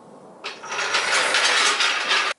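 Gear shift rod on a 1973 VW Bay Window Bus with a new bushing, moved in one continuous grating, ratcheting mechanical rasp lasting about two seconds, close and fairly loud with no talk.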